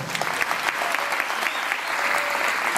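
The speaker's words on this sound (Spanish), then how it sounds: "Agradecemos por este fuerte aplauso" An audience at a lecture breaks into loud, dense applause, many hands clapping steadily and close for a few seconds, with no voices over it.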